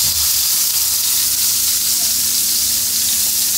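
Eggplant pieces fry in hot oil with a dense, even hissing sizzle, close and loud throughout, without clear pops or voices.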